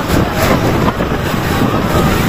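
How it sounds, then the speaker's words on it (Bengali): Sea waves roar with cold wind blowing on Cox's Bazar beach, making a dense, loud, continuous rush that buffets the microphone with no pauses. "সাগরের গর্জন, সাথে ঠান্ডা বাতাস"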